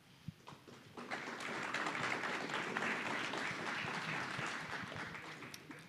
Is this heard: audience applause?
yes